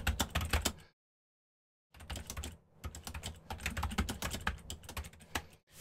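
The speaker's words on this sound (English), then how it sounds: "If I can type create right the first time." Keys clatter on a computer keyboard in quick, uneven bursts, broken by a second of silence and a short pause later, close and fairly quiet.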